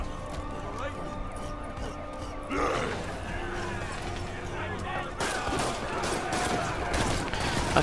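Bursts of gunfire during combat in Marvel's Spider-Man on PS4, close and dense over game sound, with a person talking over it throughout.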